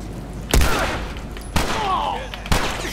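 Gunfire in The Last of Us Remastered during a coffee shop fight: three sharp shots about a second apart, each a loud broadband crack with a short ringing tail, over a steady background of game ambience.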